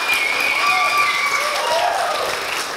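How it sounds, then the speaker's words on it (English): A crowd at a startup pitch competition applauds a presenter, with dense, even clapping filling the room throughout, while faint cheering and a whistle-like tone glide above it. "Let's give him a huge round of applause."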